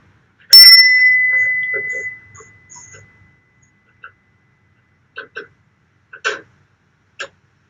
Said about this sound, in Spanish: Lleva tu atención al sonido de la campana.